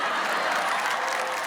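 Audience applause at a comedy and poetry show, a dense, steady wash of clapping from a crowd, loud and close, with no talk over it.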